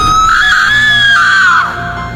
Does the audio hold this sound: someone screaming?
yes